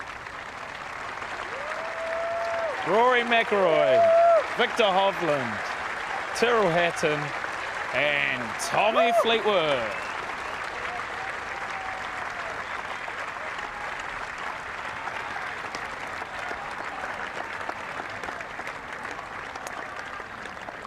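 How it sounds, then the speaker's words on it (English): Crowd applause and cheering for golfers Rory McIlroy, Tommy Fleetwood and Viktor Hovland during a practice round, swelling loudly in the middle then fading, with people talking over it. "why don't we listen to this big clap here?"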